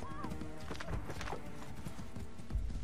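Horse hooves clip-clopping in the video game Assassin's Creed 3, a steady trotting rhythm with a horse whinny, mixed with game sounds and voices.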